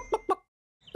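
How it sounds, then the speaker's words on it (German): A hen in her nest gives two short, close clucks, then a pause, then a sudden louder sound at the end. "Frau Huhn, darf ich mal in ihr Nest sehen?"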